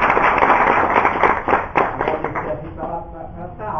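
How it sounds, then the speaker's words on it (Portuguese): Brief audience applause after a history lecture on the Holocaust, scattered claps under a muffled band-limited recording that fade within a few seconds while people murmur. "Uma salva de palmas."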